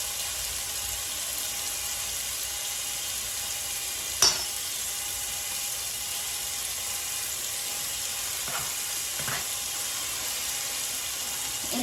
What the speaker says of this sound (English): kind of sizzles up like that.